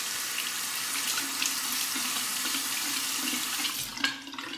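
A tap runs steadily while a Parker 89R razor is rinsed under it, a continuous close splashing hiss that shifts slightly near the end as the flow is interrupted.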